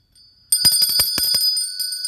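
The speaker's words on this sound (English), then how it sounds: "Has a much louder bell." A collectible hand bell rings loudly and alone after a short quiet start, its bright metallic tone sounding in rapid repeated strikes that sustain with a clear ringing overtone.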